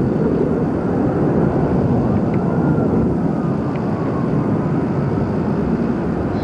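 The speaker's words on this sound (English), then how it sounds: "I just looked overhead to see where the you know, where those afterburners were coming from." Military jets with afterburners roar from very high overhead, far out of sight: a steady, broad, continuous rumble that holds level throughout with no talk.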